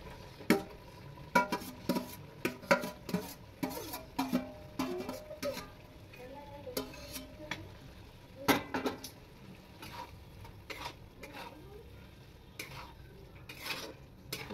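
Mushrooms and potatoes sizzle in a pan while a utensil stirs and scrapes against it, with irregular close clatters and taps over a soft, steady frying hiss.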